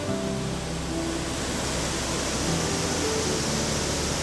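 Stream water rushes near a bridge in a Kottayam village, a dense, steady broadband flow that stays loud and close throughout with no voices.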